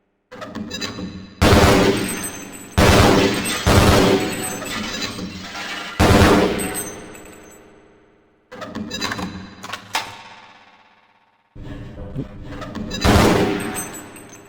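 Gunfire at the Black Mesa target range in the video game Half-Life: loud, close shots in separate bursts, each ringing out and decaying before the next, with short silent gaps between groups.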